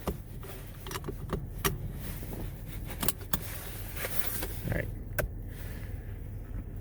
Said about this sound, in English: just trying to put my seatbelt on